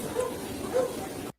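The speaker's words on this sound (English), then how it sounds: "Whose dog is that?" Dog barking somewhere in the background, two soft muffled barks about half a second apart, faint under steady room noise.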